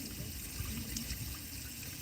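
Water trickles steadily from a garden hose, a faint, close hiss and gurgle with no talk.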